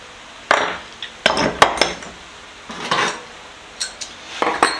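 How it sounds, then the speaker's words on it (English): Metal pipe wrenches of assorted sizes from a flea market haul being handled, giving several sharp clanks and knocks in irregular bursts, fairly close, with no talk. "Next, I got some pipe wrenches."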